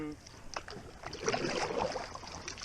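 A rowboat paddled on a lake in Vojvodina, after its trolling motor has been switched off. Soft water splashes and dips come close to the microphone in an uneven rhythm over a light background hiss, with no voices.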